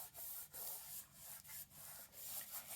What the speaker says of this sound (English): Then I put my hand on one side and I burnish the other side.